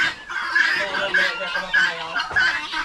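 Chickens cluck in repeated short calls among turkeys and ducks on a farm, fairly close and loud, with other fowl noise mixed in.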